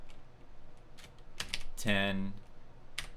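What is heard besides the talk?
typing on a computer keyboard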